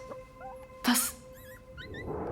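A dog whimpers softly nearby in a radio play, thin rising whines repeating over a quiet backdrop, broken by one brief louder noise.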